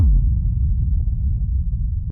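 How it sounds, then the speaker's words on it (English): A hard techno rumble kick, processed through a multiband compressor, gives a dense, loud, continuous low-end rumble with a steady throbbing pulse. It runs through the whole moment with no voices. "It's a multiband compressor."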